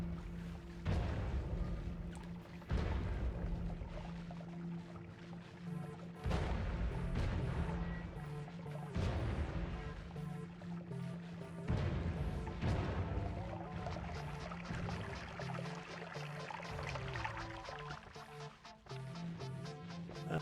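A rapid chain of booming explosions in the video game Noita, with dense bursts repeating for about twenty seconds at a steady loud level, broken by brief lulls.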